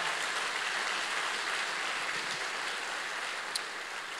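Church congregation applauding during a sermon, a steady dense wash of clapping that holds evenly for several seconds, moderately loud and without speech over it.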